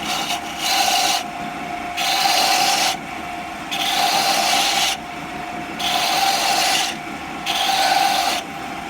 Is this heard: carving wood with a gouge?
yes